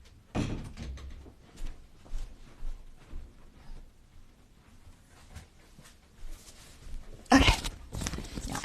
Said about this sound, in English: So I'm going to go let him out.